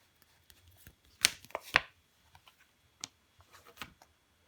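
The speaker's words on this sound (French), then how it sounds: "Je vais recouvrir le valet de bâton et le 3 d'épée." Tarot cards are laid down over others on a table, giving soft scattered taps and slaps with two sharper card hits close by and no talk.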